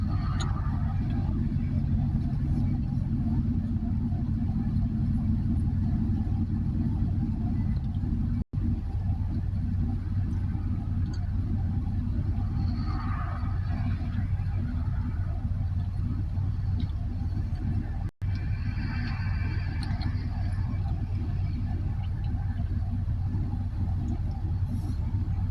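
Steady, loud road rumble fills a car's interior as it drives along, a deep continuous drone with no clear breaks.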